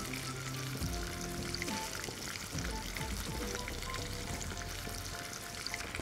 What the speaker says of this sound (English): Now we're going to shift my marinated fish to our pan.